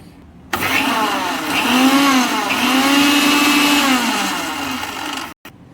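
A mixer grinder whirs loudly and steadily for several seconds blending a fine spice paste, its motor pitch wavering, then cuts off abruptly.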